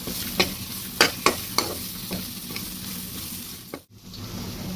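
Chickpea masala with red chili powder, homemade spice mix, garam masala and salt stirred in a pan: a series of sharp spoon knocks and scrapes early on, then a steady sizzle that drops out briefly near the end.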